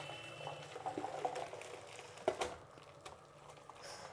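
Boiled greens, beans and cowpeas tipped into a colander, water splashing and pouring through in uneven gushes with a sharper splash partway, close by and moderately loud, no voices.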